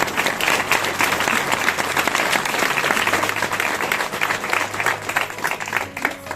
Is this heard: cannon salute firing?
no